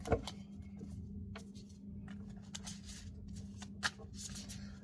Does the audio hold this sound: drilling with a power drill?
no